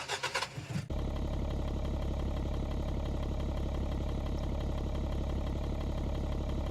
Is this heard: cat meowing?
no